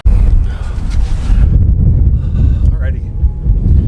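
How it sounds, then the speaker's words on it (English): Heavy wind buffets an outdoor microphone with a constant low roar and gusty rumble, loud and close, while someone talks over it. "So it's super windy, so hopefully that doesn't really get picked up by the mic."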